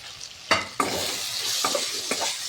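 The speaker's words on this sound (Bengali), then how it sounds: "এবার আমি মশলাটাকে ভালো করে কষিয়ে নেব" Ground chilli and cumin with turmeric and green chilli are stir-fried in a pan for egg tadka, giving a steady close sizzle punctuated by several sharp spatula scrapes.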